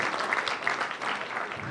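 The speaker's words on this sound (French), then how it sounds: "bonne main d'applaudissements pour Luc et Sterling" An audience at a citizen consultation plenary claps in a dense, steady burst of applause that fills the whole short stretch at moderate loudness, with no voices over it.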